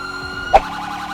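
A police car siren from GTA V, a wavering electronic wail that stays steady and loud, with a brief burst partway through and no voices.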